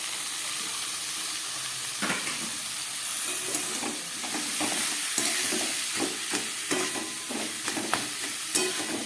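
Salted, turmeric-rubbed cabbage dropped into a hot pan with partly cooked potatoes for a vegetarian paneer dish, giving a continuous sizzle with irregular stirring clatters and scrapes throughout, close and without talk.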